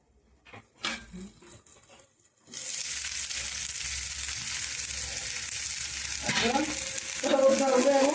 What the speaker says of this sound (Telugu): చికెన్ వండుదామని చెప్పేసి ఫ్రై చేద్దామని చెప్పేసి